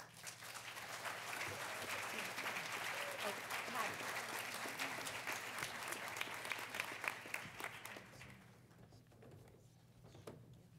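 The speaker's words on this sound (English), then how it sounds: "So I just want to say thank you and give them an applause." Sustained audience applause at a welcoming ceremony for the planning committee of an international MPS symposium, a dense steady wash of clapping that fades out near the end.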